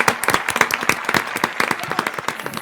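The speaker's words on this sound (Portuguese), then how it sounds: "Eu quero palmas!" A church podcast audience claps on cue, with quick, closely packed hand claps rattling along for a couple of seconds at moderate loudness.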